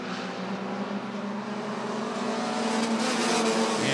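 Bandit feature race cars racing at Rockford Speedway, a continuous loud roar of several engines running close together that swells slightly as the pack passes.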